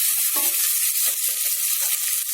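Dried red chillies and cut green chillies fry in hot oil for rice and dal, a loud, bright, continuous sizzle up close with faint crackling pops and no voices.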